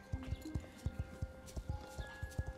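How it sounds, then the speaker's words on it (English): Pony hooves cantering in Star Stable Online, a steady rhythmic clip-clop of three-beat footfalls, soft and close with a faint game ambience behind. "let's see the canter. A very nice, cute little canter."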